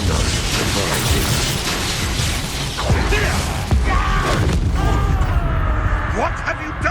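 Spell explosions and magical combat impacts from Hogwarts Legacy, a dense, continuous barrage of blasts and crackling effects with a few sharper bursts, loud and close, with voices and game sounds layered throughout.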